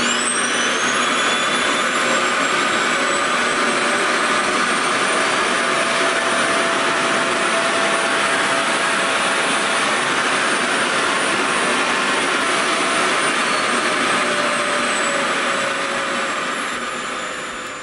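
A Revair reverse-air hair dryer runs steadily with a loud, high-pitched whooshing whine that stays constant and close throughout, fading slightly at the very end.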